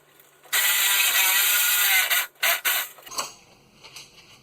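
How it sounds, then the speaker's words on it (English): A ratchet wrench loosens a bolt on a 1997 Chevy 1500 four-wheel-drive truck. It gives a loud, continuous run of clicking, then a few shorter choppy bursts and quieter clicks near the end. "I forgot to switch the ratchet"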